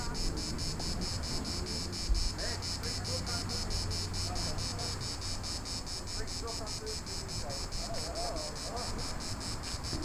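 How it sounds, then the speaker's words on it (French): Crickets chirp in a constant, fast pulsing rhythm, soft and steady, with faint background noise and no talking. "ce chant du grillon?"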